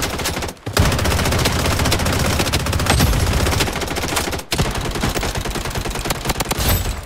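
Sustained automatic gunfire in the shooter game Blood Strike roars loud and close almost without a break, with only brief dropouts between bursts.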